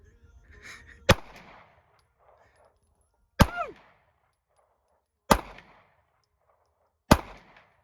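Four sharp, loud gunshots ring out outdoors, spaced about two seconds apart, each with a short echoing tail, and faint voices are heard before the first shot.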